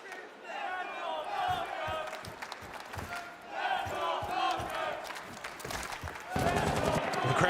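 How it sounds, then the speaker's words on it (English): An esports arena crowd at a Rainbow Six Siege major in Montreal cheers and roars for the Falcons team in swelling waves, with a commentator talking over the noise and a louder surge near the end. "Crowd finding their voice for Falcons"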